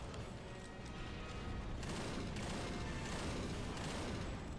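Dense, continuous automatic gunfire from a 3-round burst assault rifle in the video game Earth Defense Force 2017, a loud unbroken crackle of rapid shots with no voices over it.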